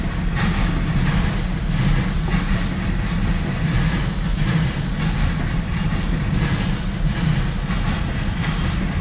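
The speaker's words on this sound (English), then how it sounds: "I thought I really missed this train." A CSX mixed freight train rolls past on a northbound track, a loud, continuous rumble with rhythmic wheel clatter over rail joints, steady and close for the whole stretch.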